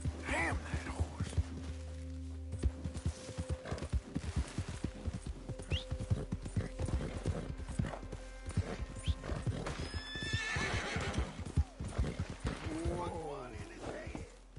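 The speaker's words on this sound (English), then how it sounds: "Damn that horse." A horse in Red Dead Redemption 2 gallops with rapid, rhythmic hoof clip-clops and lets out loud whinnies and neighs, over game ambience with someone talking briefly.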